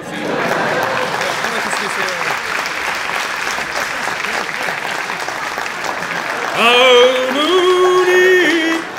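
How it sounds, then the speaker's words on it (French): An audience claps steadily through a French talk on public debt, a dense continuous patter with no break; near the end a bright tonal sound rises over the clapping. "Quand vous voulez applaudir, allez-y."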